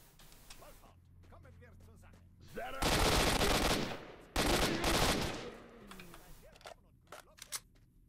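Loud bursts of automatic gunfire from the video game S.T.A.L.K.E.R. Shadow of Chernobyl, with two sustained volleys in the middle and scattered single shots on either side, while someone talks quietly at the start.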